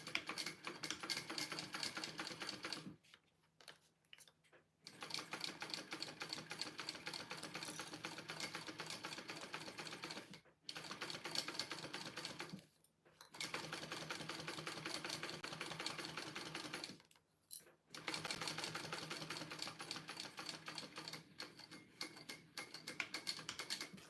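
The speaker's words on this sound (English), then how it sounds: "I'm gonna sew these together right here" A domestic sewing machine stitches fabric pieces together for a Rea pattern by Petal Patterns, running in long steady bursts of rapid mechanical chatter separated by brief pauses.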